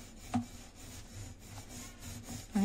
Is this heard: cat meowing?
no